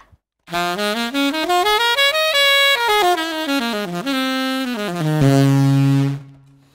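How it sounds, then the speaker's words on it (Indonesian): An electric guitar through a distortion pedal plays a rising then falling melodic run, loud and saturated, settling on a sustained low note before cutting off. "jadi saya pakai efek yang namanya distortion ini"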